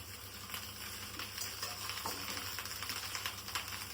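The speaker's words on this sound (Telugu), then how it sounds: "ఫ్రై చేసుకున్న రైస్లో ముందుగా ఫ్రై చేసుకున్న ఎగ్స్ కూడా వేసేసుకుని" Egg fried rice, street style, with already-fried eggs mixed in, sizzles steadily in a hot pan while a utensil scrapes and taps through it, close and continuous.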